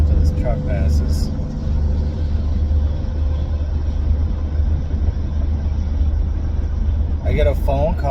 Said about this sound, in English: wait till this truck passes.